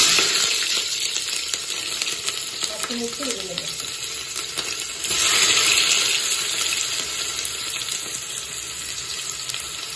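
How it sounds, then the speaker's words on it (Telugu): Green chilies and onion sizzle in hot oil in a pan on a stove, a steady frying hiss with brief stirring scrapes and a swell of sizzle midway, close and alone. "ఇప్పుడు పొయ్యి మీద గిన్నె పెట్టి గిన్నెలో కొంచెం నూనె పోసి ఇప్పుడు ఇందులోకి పచ్చిమిర్చి,"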